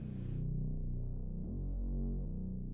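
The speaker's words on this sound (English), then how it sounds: "It's a Reese bass that I put my own little touch on." A deep, thick Reese bass synth tone with a slowly shifting, detuned growl, sustained throughout with pitch changes partway through, loud and close.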